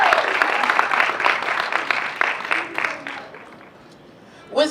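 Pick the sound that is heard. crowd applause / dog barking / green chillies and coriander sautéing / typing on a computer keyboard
crowd applause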